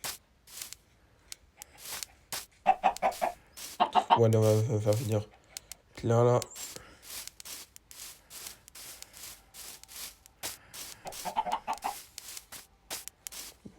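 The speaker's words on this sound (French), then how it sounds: "Attends, c'est bon, j'ai trouvé un dernier poulet là." Chickens clucking in the video game Minecraft during a survival hardcore playthrough, a few short clucks scattered among footsteps and rustling, with someone talking over them.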